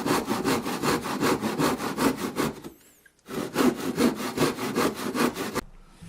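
A hand saw cuts through a 1x8 wooden board in quick, even rasping strokes, loud and close, pausing briefly midway before the rhythmic sawing resumes and then stops.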